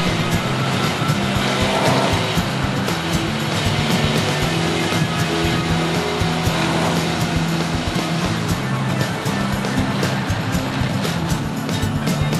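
A Ford Edge's V6 engine drones and strains steadily on an uphill test with all-wheel drive, tires whirring and squealing as it labors under heavy load, loud and close throughout.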